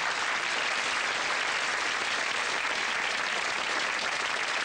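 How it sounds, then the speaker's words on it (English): A studio audience at a 1989 television game show applauds in a dense, steady roar of many hands clapping, loud and unbroken throughout. "Give them a big round of applause, ladies and gentlemen."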